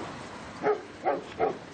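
Three short dog barks, evenly spaced about every 0.4 seconds, moderately loud against a quiet outdoor background.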